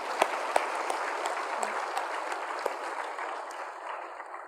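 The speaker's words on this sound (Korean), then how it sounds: "하나님께 영광의 박수를 드리겠습니다." A church congregation at a Sunday worship service claps together in steady, dense applause, with a few sharp louder claps standing out. The applause fades slightly toward the end.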